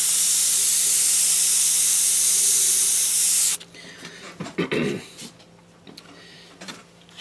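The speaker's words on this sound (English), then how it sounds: "You want a good detailed airbrush." A detailed Avanti airbrush sprays paint with a steady, loud hiss for about three and a half seconds, then cuts off, leaving a few soft bumps and handling noises.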